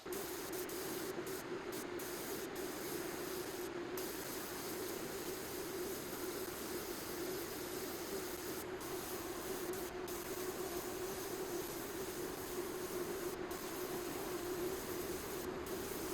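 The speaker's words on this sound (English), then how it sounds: "We're going to spray the epoxy primer on it to start with" A spray gun sprays epoxy primer onto a shop sign with a steady, even hiss that continues throughout, while faint brief dropouts break the flow.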